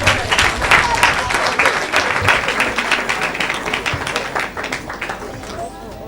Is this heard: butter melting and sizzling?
no